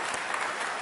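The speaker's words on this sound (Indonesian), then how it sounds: "Kita beri tepuk tangan untuk kedua kandidat." An audience applauds steadily for two candidates at a televised Jakarta gubernatorial debate, a dense, even wash of clapping filling the whole moment with no voice over it.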